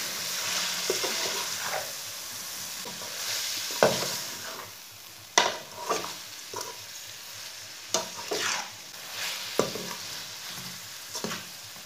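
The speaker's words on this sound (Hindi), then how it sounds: "इसे अच्छी तरह मिक्स कर लेंगे।" Cauliflower sizzles steadily in a hot pan while a spoon stirs and scrapes it in repeated, uneven strokes.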